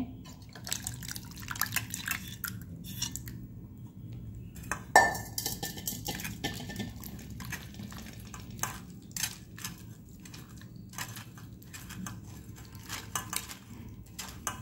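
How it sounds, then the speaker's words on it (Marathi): Tamarind pulp being pressed through a sieve into a pot, with irregular wet drips and soft scraping clinks of a utensil against metal, close and steady with no talk. "हे आता आपल्याला हा गर चाळणीने गाळून घ्यायचा आहे"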